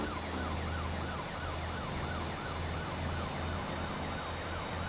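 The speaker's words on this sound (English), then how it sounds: "Now that siren does sound like it's getting a little further back behind us." A wailing siren in the video game Motor Town rises and falls in a steady, rapid cycle over a constant engine drone, loud and continuous throughout.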